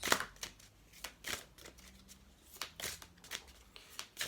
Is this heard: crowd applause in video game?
no